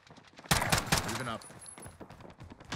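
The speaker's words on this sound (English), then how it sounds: "They're shooting at me." Bursts of enemy gunfire in the online shooter Warzone, close and loud rapid volleys crackling, then trailing into scattered shots beneath game noise.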